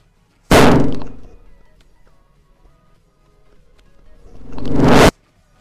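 Two sharp, loud bangs about four and a half seconds apart come from firecrackers set off with a battery-powered electric fuse, each with a short decaying tail and near-silence between.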